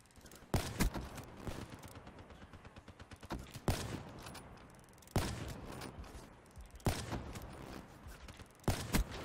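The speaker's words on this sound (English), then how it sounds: "I hear this fucker's light machine gun" Light machine gun fire in Black Ops 3 comes in loud, sharp bursts of rapid shots that recur every second or two over a steady rumbling game background.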